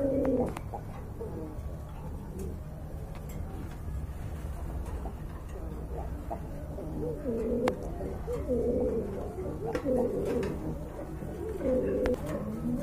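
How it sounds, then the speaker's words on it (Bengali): Pigeons of the porter breed coo in soft, repeated low bursts, close by, over a steady low background hum with faint other bird calls. "পোর্টার কবুতর মাশাআল্লাহ।"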